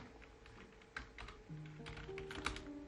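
Typing on a computer keyboard to enter a design project title, soft close key taps in an uneven run at low level, with no talk.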